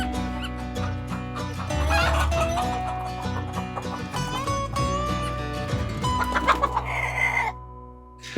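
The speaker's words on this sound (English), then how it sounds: "cut to logo with awkward sounds of like a chicken farm or something" Chickens cluck and a rooster crows in a busy chicken-farm soundscape, many birds calling loudly over several seconds before it cuts off.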